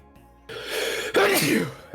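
A single sharp sneeze bursts out after a short stretch of quiet, loud and close, followed by a breathy trailing exhale.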